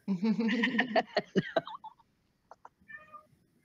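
A cat meows loudly and drawn-out, followed by a few softer chirps and mews, close by in a quiet room.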